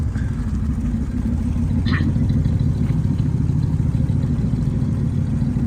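A V8 430 car engine with automatic transmission idles nearby with a steady low, loping rumble, a brief faint clink partway through, no talking.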